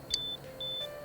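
A heart monitor in a hospital scene from the video game Persona 4 Golden gives two clean, high electronic beeps about half a second apart, quiet and isolated over a soft background hum.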